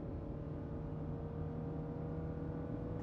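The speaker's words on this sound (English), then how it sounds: "the sound of a roaring engine killed the atmosphere hanging above us all" A sports car engine in a video game roars with a steady, loud drone, low rumble and whirring harmonics, holding constant throughout without pauses.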